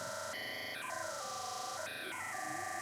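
In Ableton Live, a phaser audio effect sweeps over a synth-like tone with a stepped melody that rises and falls, a soft hiss underneath, steady and fairly quiet, without talk.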